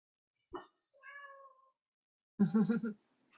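A cat meows twice, a short rising call followed by a falling one and then, after a pause, a louder, harsher second meow, close by in an otherwise quiet room.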